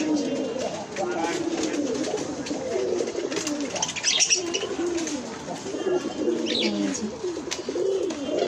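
Pigeons coo steadily in low, throaty rolling calls, with occasional chirps and a busy background murmur throughout.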